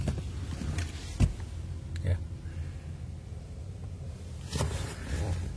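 Power window motor in the cabin of a 2016 Honda HR-V Mugen whirring briefly, heard under someone speaking, with a couple of faint mechanical clunks inside the car.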